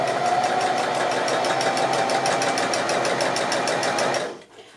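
A sewing machine running steadily while stitching a quilt with a new presser foot, giving a fast, even mechanical chatter close up for about four seconds before it stops abruptly, with no talk.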